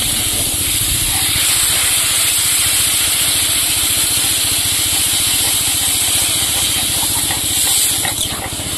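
Water poured into sizzling turnip curry in a pot on a clay stove, a loud continuous hiss and bubbling spatter heard up close throughout, with no talk.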